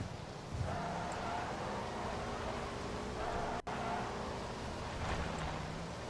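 A motorcycle in the video game PUBG runs steadily at speed, a continuous broadband engine roar and road rush that holds level throughout, cutting out for a split second midway before resuming.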